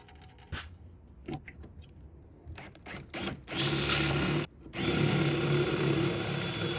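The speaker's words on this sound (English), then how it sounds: "Now we can drill some holes." Power drill bursts drilling 1/4 inch holes for a propane tank mount, short at first then a loud sustained run with a brief pause, close by and with no talking.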